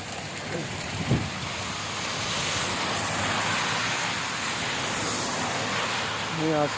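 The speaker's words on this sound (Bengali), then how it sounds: "বৃষ্টি হচ্ছে" Rain pours outdoors in Malaysia as a dense, continuous hiss, with gusty wind rumble and a few brief knocks mixed in.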